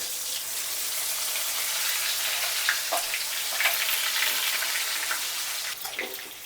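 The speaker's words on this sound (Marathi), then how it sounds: "हे वांग आहे बघा, वांग मस्तपैकी आपण टाकूया तेलात." Stuffed eggplant (brinjal) frying in hot oil in a home kitchen, a steady loud hiss and crackle of bubbling oil continuing throughout with occasional sharper pops, close up and alone without talk.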